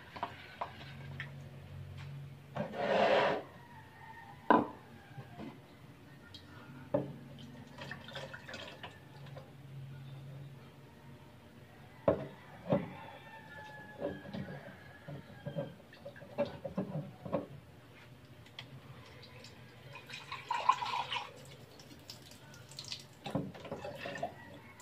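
Garlic and oregano being stirred into water inside a gallon container, with intermittent sloshing, drips and light plastic taps and knocks scattered through a quiet stretch, close by and without speech.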